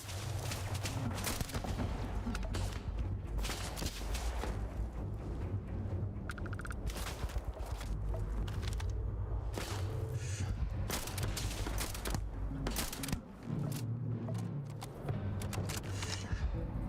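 Level 92 turrets firing in Starfield: Shattered Space, a dense, continuous barrage of rapid shots and booms that runs nearly the whole time, loud and close, with only brief gaps.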